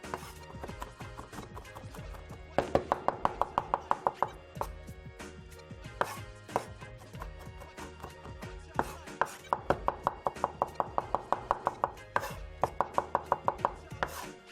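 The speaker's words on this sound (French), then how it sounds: "écraser l'ail. On va le hacher le plus fin possible." A knife chops garlic finely on a board in fast rhythmic bursts of close, crisp taps, with short pauses between the runs.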